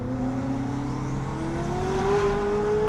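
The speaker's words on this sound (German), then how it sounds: "der Sound ist es ja unglaublich, wie das von hinten klingt. Und du hörst die ganze Zeit die Lader" A Koenigsegg supercar cruising in Dubai traffic sends out a continuous engine drone heard from behind, with the whine of its turbochargers rising steadily in pitch.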